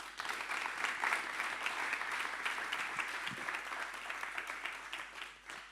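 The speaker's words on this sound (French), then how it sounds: "Sous vos applaudissements" Sustained audience applause at a French conference on European research and development, dense steady clapping from a large room, fairly loud and continuous throughout, fading slightly near the end as the speakers are welcomed.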